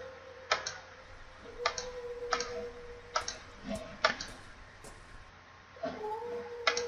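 A cat meows in the video game The Last Door, several short meows at irregular intervals over a steady ticking clock and a faint low drone, fairly quiet and without talk.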